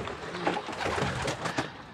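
Pigeons in a loft give soft, low cooing calls, a few murmured coos overlapping at close range for a couple of seconds.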